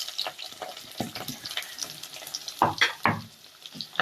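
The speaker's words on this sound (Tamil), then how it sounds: "நல்லா சின்ன வெங்காயம் வதங்கட்டும்." Small shallots frying in a pan with green chilli and fenugreek for an Emperor fish curry, a sizzle with irregular sharp crackles and the scrape of stirring, close by.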